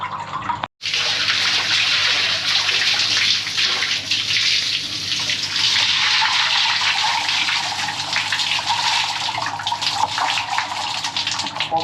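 Water rushes steadily through a blocked hospital drain, a loud, continuous gushing wash that starts after a brief cut and carries on without a break.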